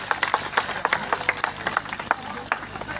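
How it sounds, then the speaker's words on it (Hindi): A crowd at a Nishad Party political rally in Gorakhpur bursts into applause, a loose spread of fairly close, irregular handclaps going on steadily for a few seconds with a murmur of voices beneath. "जोरदार तालियों से स्वागत करता हूँ।"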